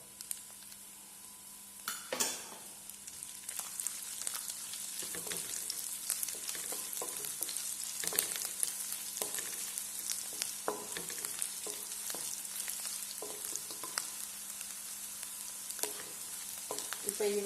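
Chopped garlic and ginger sizzle steadily in hot oil in a pan, fairly quiet and close, with occasional light scrapes and clicks of stirring.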